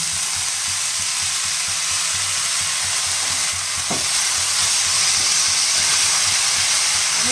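Spinach frying in a pan with already fried brinjal gives a steady, loud, hissing sizzle throughout, with a brief stir or scrape near the middle and no voices.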